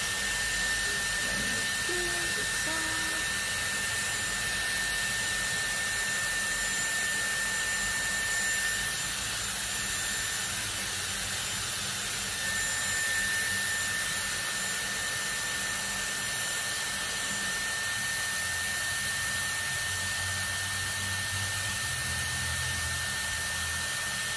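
A Dyson Airwrap long-barrel hair styler blows air in a steady, unbroken whoosh that holds at even loudness from start to finish, with a faint high whine riding on top and no talking.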